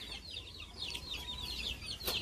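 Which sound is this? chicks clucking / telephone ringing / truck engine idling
chicks clucking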